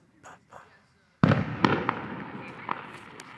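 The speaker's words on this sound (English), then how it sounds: "It's pitch black, but then a firework comes up." Fireworks bursting in the dark night sky: faint voices murmur at first, then a sudden loud boom erupts followed by a rolling crackle and several more sharp pops and bangs.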